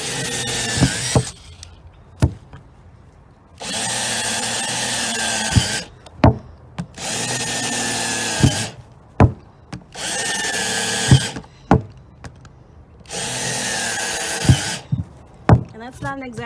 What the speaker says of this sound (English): So we need drainage holes.